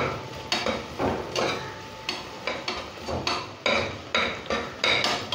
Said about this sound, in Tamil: 2-3 பச்சை மிளகாயை கீறிட்டு அதில் போட்டு அதையும் சேர்த்து நம்ம இப்போ வதக்கிட்டே இருக்கிறோம்.